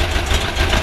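A 2-litre VW air-cooled engine idling after a distributor retrofit, a steady, loud, close rumble that runs smoothly with no pauses.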